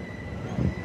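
A Bombardier class 378 Capitalstar electric multiple unit at a station platform gives off a low rumble with a steady high whine, plus a brief heavier surge of running noise near the end.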